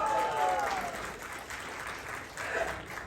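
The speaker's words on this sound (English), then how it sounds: "Give Enagic a big round of applause." Audience applause at an India leaders meeting, a broad steady wash of many hands clapping that swells again near the end, with voices mingled underneath.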